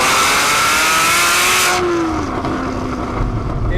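A Porsche Cayman GT4 pulls hard uphill in third gear, its engine droning loud and close with a rising pitch that eases off after a couple of seconds as the broadband roar suddenly thins out, no voices.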